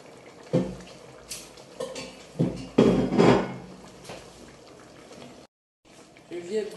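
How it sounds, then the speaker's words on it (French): Ndolé with meat is stirred in a metal cooking pot, giving repeated scraping clanks of spoon against pot with brief pauses, mixed with kitchen handling noise. "Je viens bien tourner mon ndolé avec la viande"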